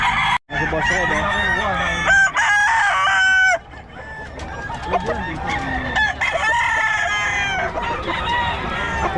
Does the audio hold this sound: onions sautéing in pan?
no